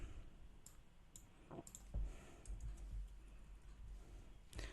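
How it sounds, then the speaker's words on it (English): Faint, sparse clicks of keys being tapped on a keyboard, irregular and quiet, with no talking. "Again I'm typing because it's hidden somewhere."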